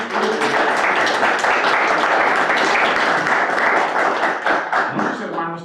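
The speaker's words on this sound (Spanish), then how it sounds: "Un aplauso al Señor." A church congregation breaks into loud, dense applause, a thick continuous roar of many hands clapping close by, with voices mixed in, tapering off at the very end.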